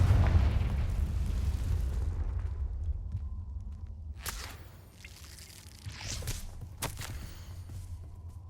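A Confringo blasting spell goes off in the video game Hogwarts Legacy with a loud low boom at the start that rumbles away, and several sharp cracks and impacts follow.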